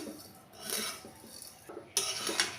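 Vermicelli fried and stirred in a pan, with scraping and clinking of a utensil against the metal and a faint sizzle, close and intermittent.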